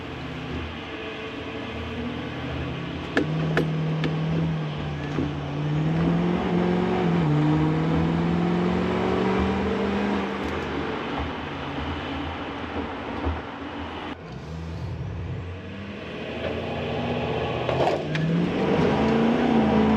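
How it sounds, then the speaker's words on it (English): A diesel pickup truck in four-wheel drive high pulling hard from a stop, its engine note climbing through several gears with short dips between shifts, loud and close from inside the cab, with no talking. "I figured I might give you guys a little pull on the way home so you guys can see how much fun this diesel pickup is"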